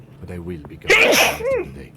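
A single loud, sharp sneeze bursts out mid-sentence in a game scene, with a person talking before and after it.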